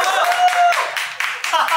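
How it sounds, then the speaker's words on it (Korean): A quick round of clapping from a crowd at an idol group's cafe fan event, short pulses of hands under excited talking voices. "박수!"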